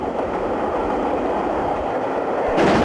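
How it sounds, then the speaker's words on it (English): Steam locomotive 3440 City of Truro, running as Sudeley Castle, storms through Totnes toward the steep climb of Rattery Bank, giving a loud, steady, close rumble that swells near the end. "As the train storms through Totnes"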